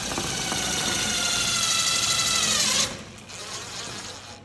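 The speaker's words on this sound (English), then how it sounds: "you don't want the drill gun to slip off of the bolt, the screw" A power drill drives a screw during greenhouse assembly, whirring loudly and steadily for a few seconds, then dropping off to a lower spin as it slows.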